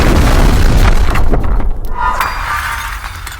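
Windows bursting apart in a loud detonation, a heavy boom followed by glass shattering and scattering, with a bright crystalline rattle trailing off over a few seconds.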